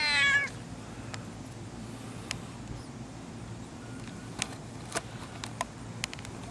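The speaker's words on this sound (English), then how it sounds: "Meow." A cat gives one short meow at the start, then quiet background hum with a few faint clicks and taps.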